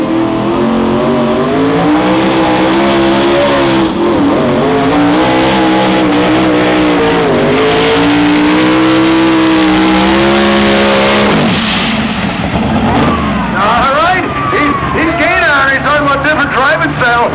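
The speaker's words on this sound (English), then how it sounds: "He yanked the throttle back and collected it and got back after it, and them turbos kept spooled up" A Ford pulling truck with spooled turbos roars continuously at a 2,050 lb pull event in Hillsboro, Wisconsin, the loud engine rising and falling in pitch as the throttle is yanked back and opened again, with an announcer talking over it.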